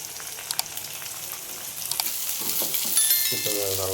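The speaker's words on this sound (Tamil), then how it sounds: "இப்போ நம்ம நறுக்கி வச்சுருக்கிற வெண்டைக்காயை இதை சேர்த்துக்கலாம்." Steady sizzling of chopped okra frying in a pan with onions, with a few clinks and stirring sounds, growing slightly louder toward the end.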